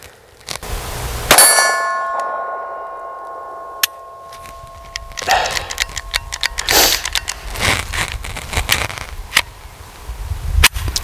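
Taurus TX22 .22LR pistol fired with a suppressor at steel targets, shots landing as sharp metallic clangs with ringing tails, one loud ring early followed by several scattered pings and rattles, fairly close.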